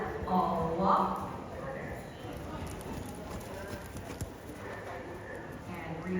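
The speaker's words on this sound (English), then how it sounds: "And walk your horses, all walk." Horses walk around a show arena, their hooves making soft, fairly distant clip-clopping. An announcer's voice and a murmuring crowd play over the hoofbeats.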